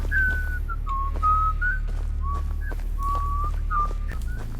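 Sparky, a robot mascot character in the game Sparky Marky, whistles a wavering tune in short, clear phrases over a steady low hum, with no talking.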